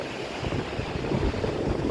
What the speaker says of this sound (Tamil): அலை பயங்கர ஆக்ரோஷமாக இருக்குது பாருங்க